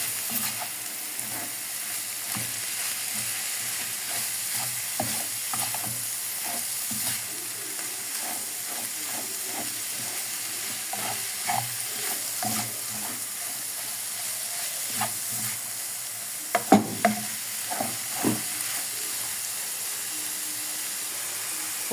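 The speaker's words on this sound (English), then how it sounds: "a tablespoon of butter to it, just to help it fry a little more" Potato and egg filling fries in butter in a pan, giving a soft continuous sizzle broken by irregular scraping stir strokes, with a few louder clatters of the utensil near the end.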